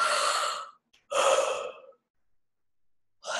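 Two deep, slow breaths drawn in and let out close by, each lasting almost a second, then a pause, with a third beginning at the end.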